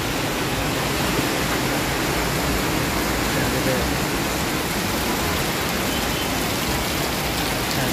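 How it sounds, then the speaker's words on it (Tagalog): Steady light rain falls continuously, a dense even hiss of drops with no pauses. "Ito hinay na ulan."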